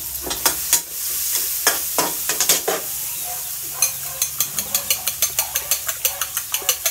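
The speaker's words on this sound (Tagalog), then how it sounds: "Batihin na natin ang etlog." Eggs being beaten for scrambled eggs with tomato: a utensil strikes a bowl in quick, regular clicking strokes that speed into a steady rhythm, close and clear.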